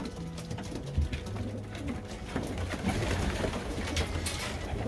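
Racing pigeons, young and old, hens and cocks, sprinters and long-distance birds, coo together inside a loft, a steady low murmur of overlapping calls with faint rustling throughout.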